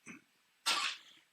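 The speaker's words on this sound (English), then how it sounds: "she's still coughing, but she's running around, her tail's wagging" A dog gives two short, raspy coughs, a faint first hack followed by a louder, harsher one, close to the microphone in a quiet room.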